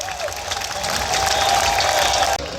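A Kavi Sammelan audience in Sikar, Rajasthan, bursts into sustained applause for Dr Kumar Vishwas, a dense, steady roar of clapping with crowd noise that swells and carries on for several seconds.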